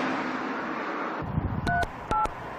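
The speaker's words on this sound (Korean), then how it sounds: "먼저 로드킬 신고 전화라고 안내되어 있는 120에 전화를 걸었습니다" A phone's keypad is used to call the 120 line to report roadkill, after a short stretch of background noise. Two loud, clear DTMF dialing tones sound separately, each lasting about a fifth of a second.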